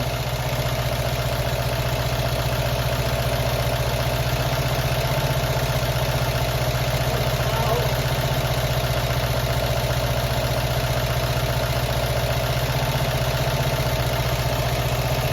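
A classic Fiat 500 engine idles at a steady, even rumble while its idle is being adjusted, holding an unbroken low drone with no speech throughout.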